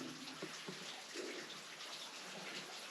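Running water, apparently a stream, flows steadily beside a camping cave in the Budawang National Park, a soft, continuous broadband wash heard alone with no talking.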